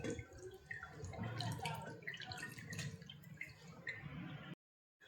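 Homemade paneer being rinsed in cold water, with close, steady dripping, splashing and squishing of wet curds for about four and a half seconds before cutting to silence.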